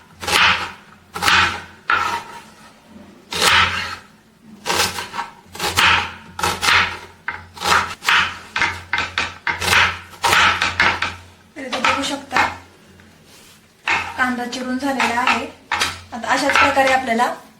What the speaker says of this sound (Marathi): कांदा चिरताना मोठ्या मोठाच कांदा चिरून घ्यायचा आहे